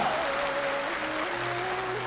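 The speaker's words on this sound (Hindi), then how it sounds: "मैं चाहूंगा आप अपने लिए एक बार जबरदस्त तालियां बजा रहे हैं।" A hall audience claps for itself at a motivational talk, a dense continuous wash of applause under a steady tonal hum for about two seconds.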